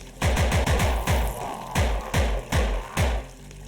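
A gun firing in the VR video game Compound, a rapid string of about a dozen loud, close, punchy shots in short bursts with brief pauses, heard alone.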